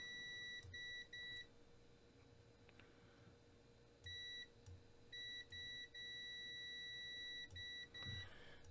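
A multimeter's continuity tester beeps as probes touch the grounded ports of an Alpha Delta antenna switch, giving a series of short and longer steady electronic tones, close and clear against a low background hum.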